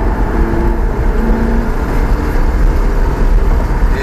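A Lamborghini Gallardo accelerates on a race circuit, its engine a loud, continuous roar with rising tonal notes, heard close from within the car.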